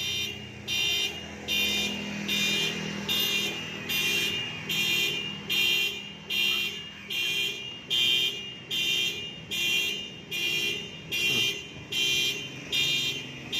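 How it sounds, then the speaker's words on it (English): A car alarm on a quiet Sunday street in Angeles City blares in a steady repeating pulse, about one beep a second for the whole stretch, moderately near over faint background noise. "Your car alarm goes off and nobody even cares."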